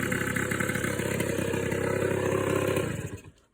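A rebuilt Suzuki LT80 ATV engine idles with a close, steady, rapid putter and buzz, then dies away in the last half second, with no talk.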